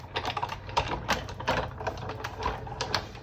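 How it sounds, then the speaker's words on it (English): A die-cutting machine rolls a paper card and embossing folder through its plates with a dense run of small clicks and ticks over a low, steady motor hum, close and moderately loud, with no talk. "we'll send this back through the die machine"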